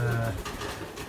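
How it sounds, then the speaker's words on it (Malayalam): Ring doves and diamond doves in a home pigeon loft give a soft, low cooing that carries on steadily through the brief moment, close by. "റിംഗ് ഡവുമുണ്ട്, ഏറ്റവും ചെറിയ പ്രാവിനായിട്ടുള്ള ഡയമണ്ട് ഡവുമുണ്ട്."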